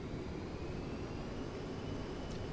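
Steady, even roar of A-10C jet engines at full takeoff power in the DCS World flight simulator, a continuous broadband rush with no change in level, fairly quiet and with no speech.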